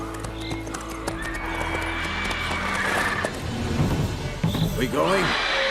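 Game horse from The Witcher 3 galloping with steady clip-clop hoofbeats and a loud whinny near the end, set against background game sound and some voices.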